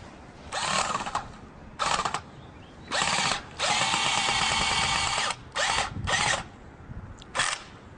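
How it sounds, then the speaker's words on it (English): A power drill driving a screw whirs in short bursts, then one longer sustained run, followed by two more brief pulses, loud and close with no talking. "take the screw and put it in one of the holes and drill it straight down"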